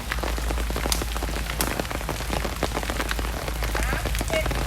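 Steady rain patters on a hard surface at an outdoor sepak takraw match, a dense constant hiss with scattered sharper drops and faint background murmur.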